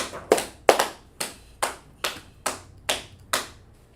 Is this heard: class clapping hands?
yes